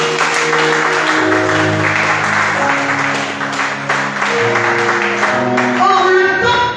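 Church congregation applauding, a dense, loud, sustained wash of clapping that runs throughout, with voices and music tones mixed underneath.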